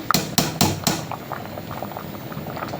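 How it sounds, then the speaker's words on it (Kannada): Lentils (dal) simmer in a pot with a soft, bubbling boil, opened by a few sharp knocks of metal at the start before the quiet burbling continues alone. "ಬ್ಯಾಳೆ ಕುದ್ದಾವಂತ್ರಿ"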